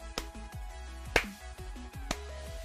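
A slow, sparse hand clap: a few sharp, separate smacks spaced unevenly apart, close and fairly quiet over a faint tonal background.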